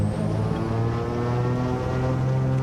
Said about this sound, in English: Engines have come to life.